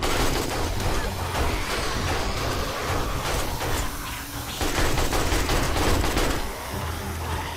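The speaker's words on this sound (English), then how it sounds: "I'm just hip firing. Yeah, I'm just aiming with the AK" Rapid AK rifle gunfire in the console version of the survival game 7 Days to Die, dense bursts of hip-fired shots running almost continuously under a busy, noisy game mix during a horde defence at a bird cage base.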